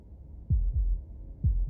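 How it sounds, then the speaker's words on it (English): A heartbeat thuds in the video game Slay the Princess, deep, low, muffled double beats repeating at a steady resting pace, alone against a faint low hum. "That was the sound of a heartbeat,"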